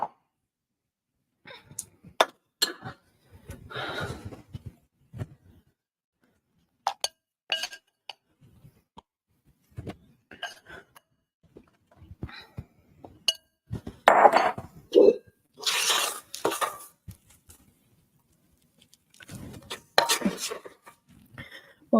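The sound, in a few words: spatula scraping cake batter from a mixing bowl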